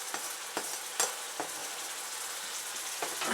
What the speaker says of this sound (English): This we add into and let's fry together until we can smell the aroma from the ginger and the garlic